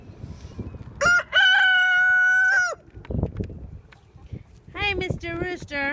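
A rooster on a muddy farm after rain gives two loud, close crows, one long and drawn out near the start and another ragged one near the end, with clucking and someone talking between them.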